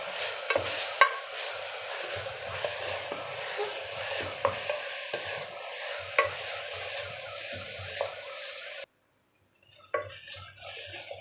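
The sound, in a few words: curry leaves sautéing with onions in a pan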